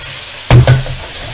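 Egg and noodles for Malaysian mamak mee goreng stir-fry in a hot pan: two quick, loud scraping tosses in close succession over a faint steady sizzle.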